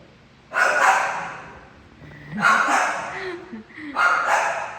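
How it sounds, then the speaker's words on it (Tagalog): A husky barks and yips in three loud bursts, close by, with whining between them and a person talking over parts of it. "Husky yan."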